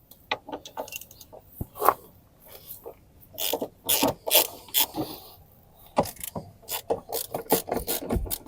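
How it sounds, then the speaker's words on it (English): Ratchet clicking as a T50 Torx bit loosens the factory front seat bolts of a GWM Tank 300, close rapid pawl ticks in uneven bursts, with occasional rubbing and handling noises between. "You simply remove the two front factory seat bolts, these T50 Torx bits here and there."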